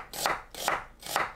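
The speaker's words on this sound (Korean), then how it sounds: "양파 절반은 채 썰어주세요." A knife cuts half an onion into strips on a board, three crisp, evenly spaced chops close up with nothing else audible.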